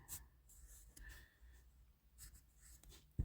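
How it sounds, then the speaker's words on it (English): A pen scratches out a measurement on paper during an engine build, with a few short, quiet strokes and pauses between them in a hushed room. "So we will write that down."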